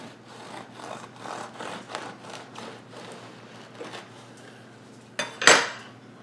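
A knife saws back and forth through a loaf of homemade white bread, a run of soft rhythmic rasping strokes, then a sharp louder clatter near the end, close and alone.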